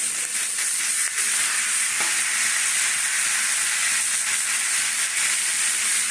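Whole poppy seeds being stirred in a wok while cooking potatoes, a steady sizzling fry hiss running throughout with faint scraping strokes, close and continuous, no voices.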